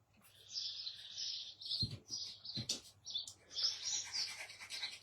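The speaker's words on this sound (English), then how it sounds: "they just chirp all day long" Garden birds chirp and twitter almost continuously, a busy overlapping chorus with a couple of brief knocks in the middle, heard alone at moderate distance.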